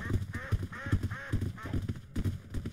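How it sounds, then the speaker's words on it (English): Rubber duck squeaks sound in the Roblox game Doors, a rapid series of nasal, honking squeals repeating over a thumping low background throughout. "I'm hearing like rubber duck sounds."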